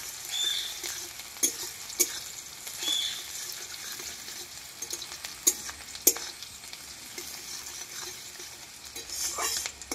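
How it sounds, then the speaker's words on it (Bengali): Two bay leaves and two chopped onions frying in hot oil, a soft steady sizzle with occasional stirring scrapes and pops, close but fairly quiet, no voices. "আমি এখন দেবো 2টা তেজপাতা আর 2টা পেঁয়াজ কাটা। আমি লাল লাল করে ভাজবো।"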